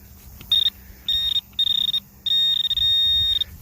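A metal detector hunting a coin spill gives repeated high, steady electronic tones, short beeps first, then a longer sustained ring over the target.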